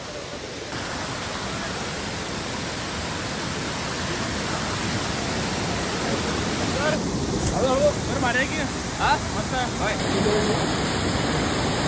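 Amboli waterfall roars in a loud, unbroken rush of flowing water, close and steady throughout, with a voice speaking over it partway through.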